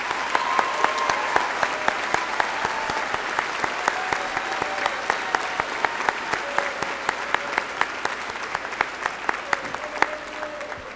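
A high school graduation audience applauds the top 10 graduates with sustained, steady clapping and occasional sharper claps. A few faint voices and whoops come through underneath.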